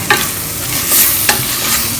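A spoon stirs squid roast frying in a pan, Kerala style, with scraping strokes over a steady close sizzle and no talking.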